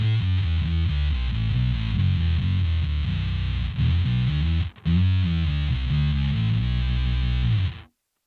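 A 1963 Precision Bass on its P pickup with the tone rolled fully up, run through a Neural DSP Quad Cortex, plays a loud, thick, distorted riff that continues steadily, with a brief break near the middle, and stops abruptly at the end.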